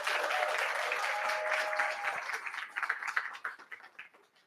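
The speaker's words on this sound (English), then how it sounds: "Please give our pitchers a round of applause." Audience applauding young pitchers at a creative pitching challenge, a dense burst of clapping that starts full and then thins into scattered individual claps as it dies away.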